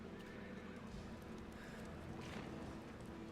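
A horse pulls a stagecoach in a video game, with a steady clip-clop of hooves and a whinny over a constant rumble of wheels and wind.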